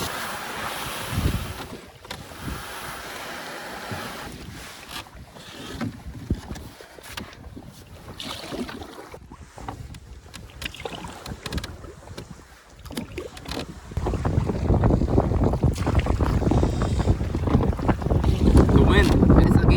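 Canoe paddled across Big Trout Lake in Algonquin Park against a headwind, with gusty wind buffeting the microphone and water splashing, growing louder and denser toward the end.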